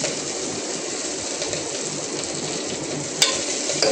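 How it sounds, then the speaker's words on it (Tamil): Green chillies and onions sautéing in a shallow layer of oil in a pan, giving a steady close hiss and crackle of frying throughout with occasional stirring clicks and no talk. "அதனால் அதை முதல்ல போட்டுட்டு மூணையும், அதுக்கப்புறம் வெங்காயம் போட்டு வதங்கலாம்"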